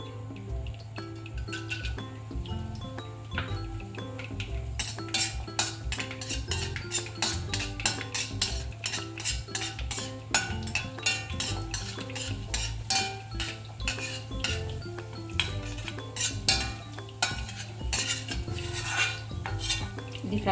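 Grated pumpkin (kaddu) is fried and stirred in hot ghee for pumpkin kheer, with rapid metallic clinks and scrapes of utensils against the pan over a steady low hum, continuous throughout, with no voices.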